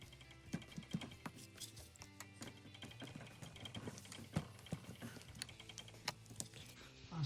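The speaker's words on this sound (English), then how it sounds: "I'll spend a few minutes scoring that, and then we'll probably just snap it off." Standard razor knife scoring through a plastic part of a Matchbox 1:64 scale model, the blade drawn repeatedly in short scratchy strokes with small clicks, close and steady throughout.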